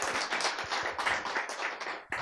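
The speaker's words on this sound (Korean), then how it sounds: "오케이 박수." An audience at a lecture claps together in a short burst of steady, fairly close applause that stops abruptly near the end.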